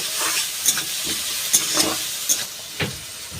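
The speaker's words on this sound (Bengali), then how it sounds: "এইবার বেশ ভালো করে ভাজা ভাজা করে নেব" Onion and tomato fry with salt in a pan, giving a steady soft sizzle broken by several sharp scraping stirs of a spatula at irregular intervals, close and clear, with no voices.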